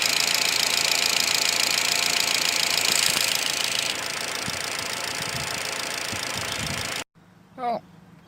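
A Holden Cruze engine idles while warming up, a steady close mechanical hum with light ticking that drops slightly in level partway through before cutting off, followed by a brief faint sound.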